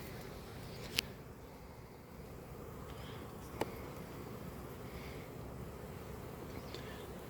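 Honey bees buzzing faintly during a hive inspection, a soft continuous drone with a couple of brief clicks, no talking.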